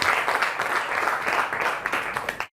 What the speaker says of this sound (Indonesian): Beri aplaus dulu untuk kita semua.